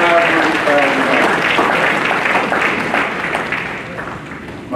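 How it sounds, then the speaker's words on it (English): A crowd applauds at a charity ball, loud sustained clapping that slowly fades toward the end, with voices and cheers mixed through it. "give yourself another round of applause"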